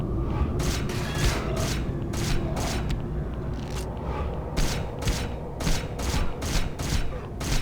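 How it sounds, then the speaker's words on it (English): Rapid machine gun fire in the video game Hunter: The Reckoning, bursts of loud cracking shots in quick succession over dense, noisy combat ambience. "And then the machine gun, see, look at that."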